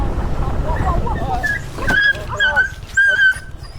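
Dogs on a roadside between Balangan and Uluwatu in Bali, yipping and whimpering in short high bursts amid a scuffle, with people talking and traffic noise underneath.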